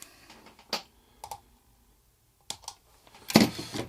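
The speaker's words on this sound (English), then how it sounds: "let's snip the end of this one off" Small wire cutters snip the end off a capacitor lead on a budget Mustang-style guitar build, giving sharp close clicks and taps scattered over a few seconds, with the loudest snap at the end.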